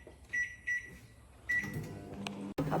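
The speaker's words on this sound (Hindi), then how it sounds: "अब मैं इसको माइक्रोवेव करती हूँ, अब मैं इसको गर्म करती हूँ" Microwave oven running while warming kulcha in a home kitchen, a steady hum with brief tonal bursts and a sharp click near the end, close and moderately loud with no talking.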